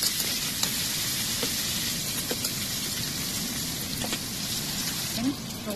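Pork frying in a heated wok, a steady sizzling hiss running throughout with a few small crackles and a brief stir near the end, close and moderately loud.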